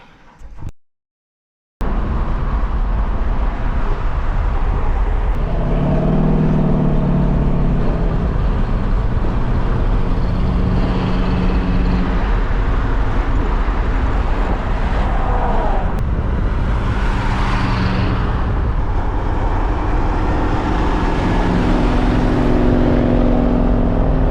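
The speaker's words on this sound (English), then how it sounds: "enjoy these couple of little clips of us ripping through the mountains and doing car things" A 1967 Chevy Nova drives through the mountains, its engine a steady loud roar and road rumble heard close, with a shift in pitch partway through as it pulls harder, after a brief cut at the start.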